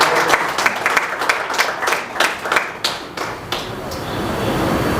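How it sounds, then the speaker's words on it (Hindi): A theatre audience applauds after a stage play, a burst of many hands clapping close and loud in uneven bursts, thinning toward the end into a steadier background murmur. "तो ऐसे विकास भाई के लिए जोरदार तालियां"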